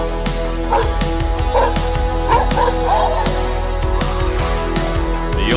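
A dog barks repeatedly at an invading black bear outside a house, loud close woofs and yips mixed with whimpering, over a steady background hum and some voices.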